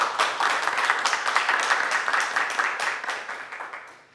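An audience at a cultural diversity talk concert claps for a panelist being introduced, a dense burst of many hands clapping at once that stays steady and then thins slightly toward the end, with no talk over it.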